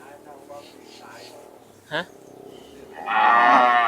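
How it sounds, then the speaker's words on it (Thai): Small cattle low at a livestock market in Wang Prachop, Tak. A short moo is followed by a louder, longer bellow, heard under someone talking nearby. "วัวมีในตลาดทุกวันนะครับ"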